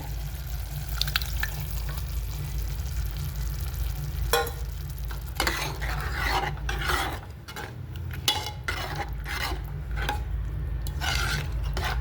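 Tamarind jaggery aamti sizzling in a pan as dal is added and stirred in, with a steady frying hiss and repeated spoon scrapes and rasps at close range, no talking.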